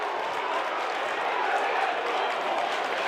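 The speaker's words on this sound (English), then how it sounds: "as the crowd runs onto the court, dude. In sheer pandemonium here" A high school basketball crowd at York High versus Central York roars and cheers in a dense, steady wash of noise as fans storm the court, with no single voice standing out.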